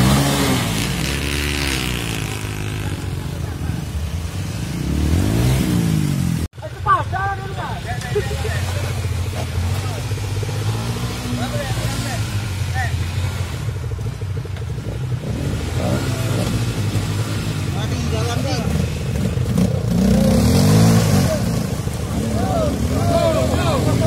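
A motorcycle engine drones steadily close by, rising and revving as it accelerates, with people talking loudly over it for most of the time.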